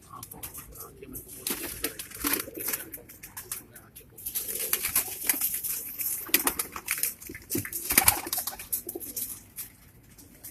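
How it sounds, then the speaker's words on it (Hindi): Rampuri pigeons cooing softly among scattered bird calls and fluttering, with faint voices in the background. "रामपुरी कबूतर है।"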